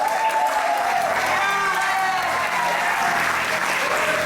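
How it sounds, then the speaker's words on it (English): Audience at a live stage show applauds steadily and loudly for a volunteer called up on stage, a dense continuous wash of clapping, with a voice faintly audible through it. "Let's give her a big round of applause."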